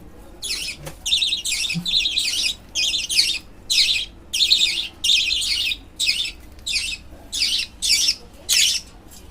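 A budgerigar squawks repeatedly in short harsh bursts, about one per second, fairly close, with faint background noise and no talking.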